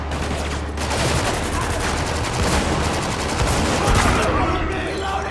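Sustained gunfire in the video game Spec Ops: The Line, a loud, dense fusillade of rapid automatic shots that runs almost without a break through the whole stretch.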